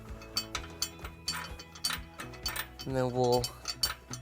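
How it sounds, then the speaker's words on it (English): A bolt is threaded into a flange nut held in a 19mm wrench while a trailer hitch is fitted to a 2013 Jeep Wrangler. It gives close metallic ratcheting clicks in an irregular rhythm, with someone briefly talking over it. "turn the bolt head from the other side until it is attached"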